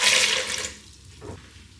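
Water, about 1.5 cups, is poured into a Ninja Speedi cooker for lamb chops with baby potatoes, a steady close splashing rush that fades after the first second.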